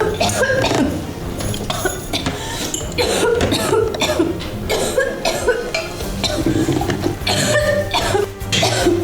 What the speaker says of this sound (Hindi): उसे एलर्जी हो गई और वो जोर जोर से खांसने लगी।